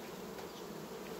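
Gentle Carniolan honeybees at an open colony hive make a dense, steady buzz of many wings, close and continuous through the brief moment with no voices.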